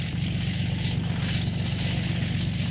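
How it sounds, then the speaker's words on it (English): Propeller aircraft engines run on a plane out in the desert in a 1984 A-Team dramatisation, a steady low droning buzz with rhythmic pulsing, loud and close with no talking. "Out in the desert, Murdoch starts the plane's engines"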